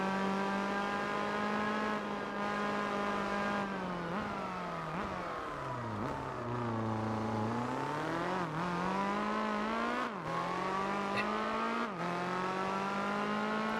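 Race car engine in Gran Turismo 4, a loud, continuous whine rising and falling through gear changes and revs for the whole stretch, with no talk.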